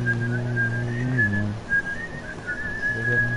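A person whistles a short, clear melody of several sustained notes with a few pauses, close and fairly loud over a faint background of other tones.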